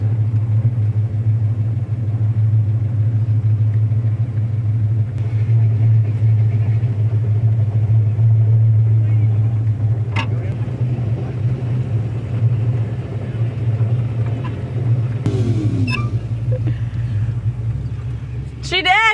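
A 1956 Ford F100 pickup truck engine rumbles steadily and deeply while driving to a car show, a constant low drone throughout with occasional voices and cabin noises on top.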